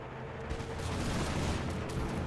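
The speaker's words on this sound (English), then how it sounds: "And return fire." A volley of musket fire from armed ranks in a Revolutionary War battle crackles as a dense, sustained burst of overlapping shots, loud and continuous with no pauses.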